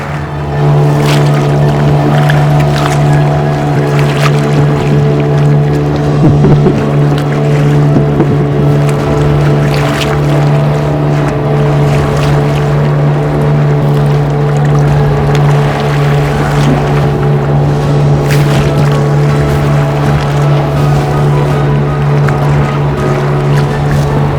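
A boat motor on a lake in Africa hums steadily and loudly throughout, a constant low droning tone with faint water splashing underneath.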